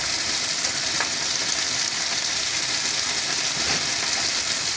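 Vegetables frying in a little oil alongside a pork chop in a pan, a loud steady sizzle and hiss that continues throughout with no talking.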